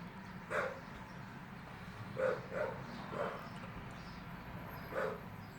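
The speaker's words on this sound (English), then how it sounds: "the dog is over there barking its ass off" A dog barks five times at a distance, single yaps spaced out over a low steady background hum.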